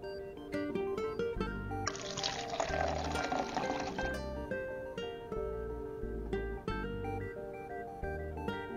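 Water poured into a glass in a home kitchen, a steady two-second stream heard under background music.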